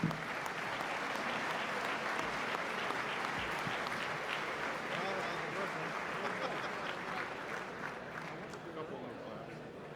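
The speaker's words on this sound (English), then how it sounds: "Couple more claps." Sustained applause from a crowd as a joint session of a state General Assembly adjourns after the 2017 State of the State Address, steady and dense throughout, fading slightly toward the end.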